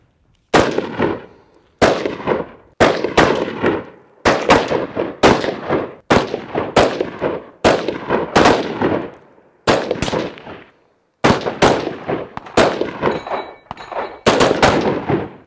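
Rifle shots from a carbine zeroing drill on a firing line, fired in a steady string of sharp, loud cracks about one per second, each with a short ringing tail, and no talking between them.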